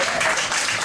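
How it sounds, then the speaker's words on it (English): A short burst of crowd applause, many hands clapping in a dense, even wash that stays loud and steady across the moment before cutting off. "Round of applause if you did."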